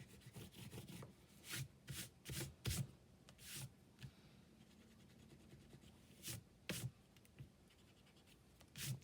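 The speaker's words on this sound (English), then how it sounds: "then can erase the lines." Pencil lines being erased from paper while working on a small butterfly journal cover, heard as soft scratchy rubbing strokes in short irregular bursts, close and faint, with no talking.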